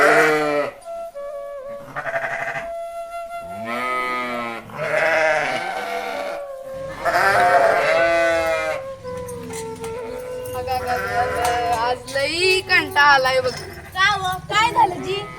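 Sheep bleat over and over, loud and near, in wavering calls with short gaps between them, and a voice joins in toward the end.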